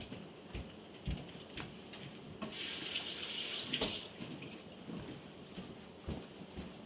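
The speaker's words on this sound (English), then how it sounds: "Let me grab my wash rag and get my finger washed off." Tap water runs into a sink while a finger is washed, a soft, close splashing stream that swells briefly in the middle, with faint clatter and no talking.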